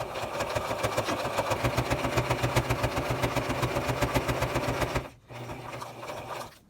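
A sewing machine stitches reusable cloth menstrual pads with a fast, even run of mechanical strokes. It pauses briefly, then starts again at a slightly softer level.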